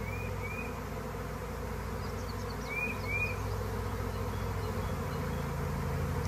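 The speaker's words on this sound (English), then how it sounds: "Thousands of bees." Dense, steady buzzing from a honeybee swarm of thousands of bees clustered high on a tree branch, a continuous outdoor drone with no talking and a few faint bird chirps above it.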